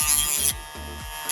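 A plastic trim piece from a Tesla Model Y being cut down, a short burst of harsh high cutting noise for about half a second, then quieter low scraping strokes, fairly close.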